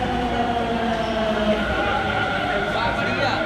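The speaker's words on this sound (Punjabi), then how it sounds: "ਸਾਡੀ ਟ੍ਰੇਨ ਆ ਚੁੱਕੀ ਹੈ" A metro train standing at a New Delhi metro station, with a steady rumbling hum and a faint rattle, while a voice talks over it.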